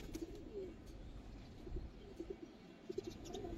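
Fancy pigeons give faint, soft coos in a few short bursts against a quiet, low rumbling background, with no one talking.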